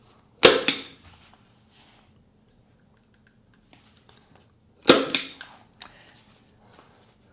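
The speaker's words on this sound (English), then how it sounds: "I kind of always start in the middle and work my way out. And I like to put a staple every inch or so." A staple gun drives staples into a 2x4 wooden board in two separate loud, sharp snaps several seconds apart, each followed by brief softer clatter, with quiet between them.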